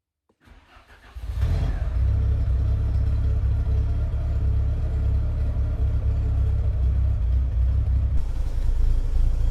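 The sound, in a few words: car engine starting and idling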